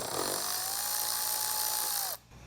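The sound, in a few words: removing a 10mm bolt from a Toyota Tundra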